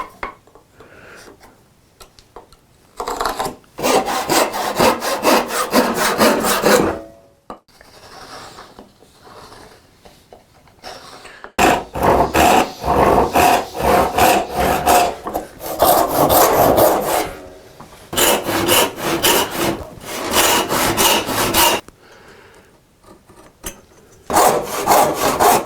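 A block of wood roughly one inch square and eight inches long being cut with a handsaw, in bursts of steady rasping back-and-forth strokes separated by short pauses, close and loud.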